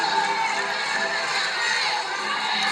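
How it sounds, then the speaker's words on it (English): Softball crowd at a Mississippi State home game against Georgia grumbles and boos at an umpire's call, a steady, dense wash of many voices filling the whole stretch. "Crowd not liking that call."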